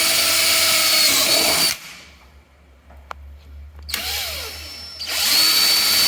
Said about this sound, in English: I'm going to take my 1/2-inch cordless drill, and for my corners, I'm going to drill through my corners